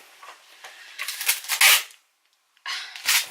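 A tape gun pulling and dispensing packing tape across a cardboard box, heard as close, harsh ripping bursts with a short silent pause before a final screeching pull.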